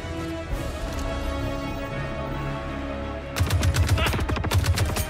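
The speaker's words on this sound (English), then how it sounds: "And I love the sound of the weapon as well." Rapid automatic weapon fire in the Squadron 42 space shooter game breaks out partway through as a burst of sharp, evenly spaced shots over a steady electronic hum.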